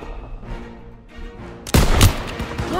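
Gunfire in the World War II shooter Call of Duty: WWII, a quiet rumbling start that breaks into a sudden loud burst of shots around the halfway point, followed by continued close, dense firing.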